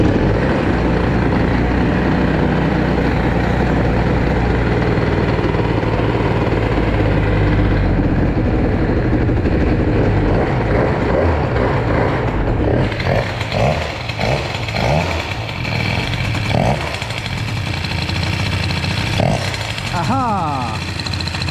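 A Bidalot RF 50 WR moped engine with a freshly dried carburetor, running loud and close on choke: a constant buzzing two-stroke drone that wavers and sputters midway, then settles into a rougher, pulsing idle.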